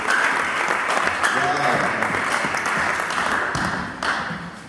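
A church congregation at a baptism bursts into sustained applause and cheering, a dense, loud wash of clapping that tapers slightly toward the end, with voices mixed into the crowd noise.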